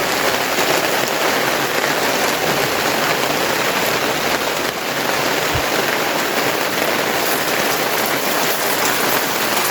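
Steady rain falls on surfaces beside a small home farm, a dense, even hiss of drops continuing throughout with no voices.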